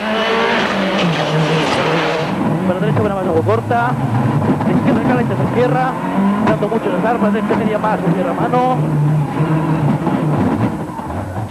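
Citroën Xsara WRC rally car heard onboard at the 2003 Monte Carlo Rally, its engine revving hard up and down through rapid gear changes with tire squeal, loud and close, as a voice speaks throughout.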